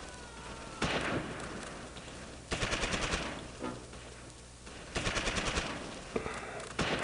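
Bursts of automatic gunfire and shots in the WWII strategy game Close Combat, set in Normandy, with several loud rattling volleys separated by short gaps over a constant low battlefield rumble.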